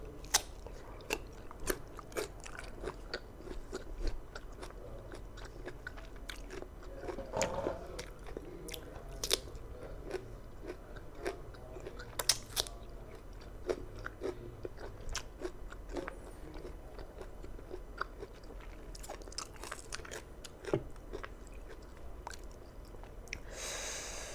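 Close-up bites and chewing of a large sour green mango with spicy bagoong, quiet wet crunches and squishy mastication in an irregular rhythm, close to the microphone.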